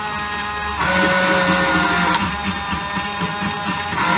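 Small DC motor driven by an L298N motor driver board, a steady close whirring hum that shifts slightly as it changes direction, alone without talk.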